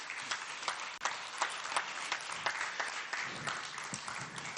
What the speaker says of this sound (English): Shall we have a presidential applause for our special guest of honor